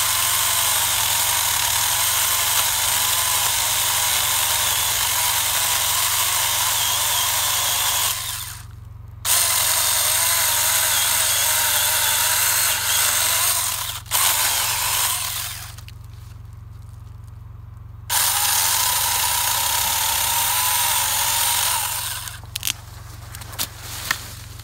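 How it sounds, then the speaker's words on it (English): A Saker mini chainsaw cuts through a 3-inch yellow pine, a loud, steady high-pitched motor whine that drops out briefly twice, then runs again before sputtering to a stop with a few final revs. "All right, so let's test it on a pine tree."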